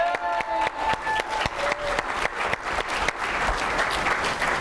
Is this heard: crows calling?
no